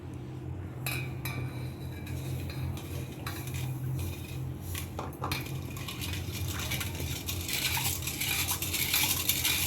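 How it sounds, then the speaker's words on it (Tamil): A spoon stirs sugar into about a litre of colostrum milk in a metal vessel, repeated close clinks and scrapes in an irregular rhythm over a steady low hum, no talk. "இதுக்கு வந்து நம்ம சர்க்கரை போட்டு கரைச்சிக்கலாங்க."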